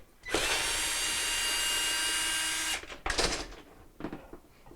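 A power drill runs steadily for a few seconds backing out the quarter-inch screws on the sump cover of a GE dishwasher, then stops, followed by a couple of short clunks and handling sounds up close.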